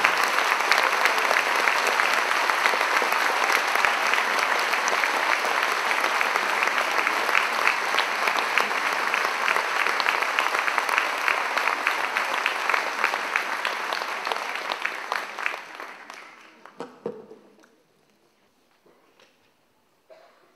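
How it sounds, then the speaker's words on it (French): Sustained audience applause at a centenary celebration concert for a choir, a dense wash of clapping from a large crowd lasting about fifteen seconds before tapering off into scattered claps and quiet. "Je vous demande d'applaudir"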